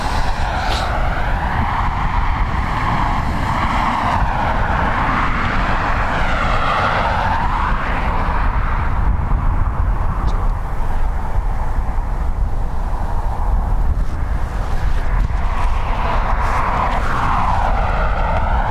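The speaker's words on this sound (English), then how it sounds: "When those ATRs at the initial spool up there, that's the brap noise that it sounds like the Warthog when it's on a strafe" ATR turboprop airliners at Dublin Airport spool their engines up, producing a loud, continuous propeller roar with a rasping, wavering buzz that surges and swells throughout, heard close and alone.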